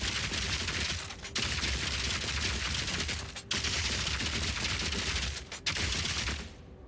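Rapid bursts of crossbow fire with shock burst rounds in Path of Exile 2 come as dense, continuous crackling volleys, broken by brief gaps for reloading, loud and close.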